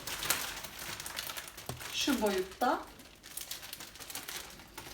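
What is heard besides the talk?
plastic bag crinkling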